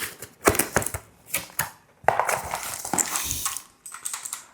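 A mechanical keyboard is lifted from its box and handled: a string of close, sharp plastic clicks and clacks in irregular bursts, with brief pauses between them and no voices.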